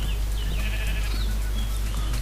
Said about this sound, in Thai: อันนี้เลี้ยงแกะไว้กินก่อนเนาะ